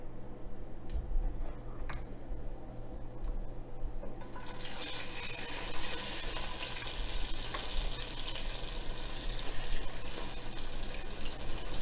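Bay leaves, whole cardamom, cumin seeds and chopped green chili sizzle in hot oil for an Odia fish curry; a low steady background with a few clicks, then a bright hiss rises sharply and holds to the end.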